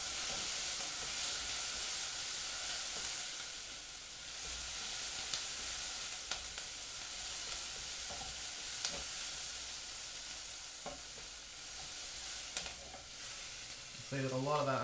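Garlic fries in a pan alongside caramelizing onion and thyme for onion soup, giving a steady, dense sizzle with scattered light clinks and a brief tonal rattle near the end.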